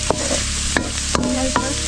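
Chicken frying in a pan for sinampalukang manok, outdoors on a farm in Mindoro, with a steady broadband sizzle, broken by a few sharp clinks of a utensil stirring, no voices.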